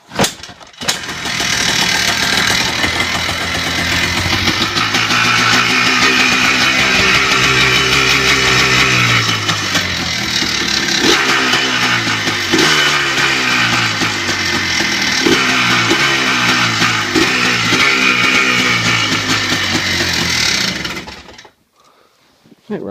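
A Yamaha Blaster ATV engine is kick-started cold with the choke pulled out. A few kicks come first, then it catches into a loud, close, steady run with an uneven burbling idle before cutting off at the end.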